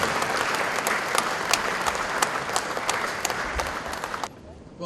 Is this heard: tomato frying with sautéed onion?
no